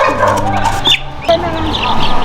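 Mixed Barred Plymouth Rock and Rhode Island Red chicks, about three weeks old, at a backyard breeder's, cluck and chirp steadily at close range, with high peeps rising over a continuous low flock murmur and a faint background voice.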